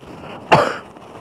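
One sharp, close cough from a man out in cold weather, loud and sudden over a quiet background.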